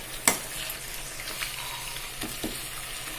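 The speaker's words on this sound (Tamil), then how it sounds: "கீரையை மூடி போட்டு வேக வைக்கக்கூடாது. ஸோ அதனால் அப்படியே ஓப்பனாக விட்டு வேக வைக்கலாம்." Spinach cooking uncovered in a pan gives a soft, steady frying hiss with a few faint stirring clicks and one sharp tap near the start, no talking.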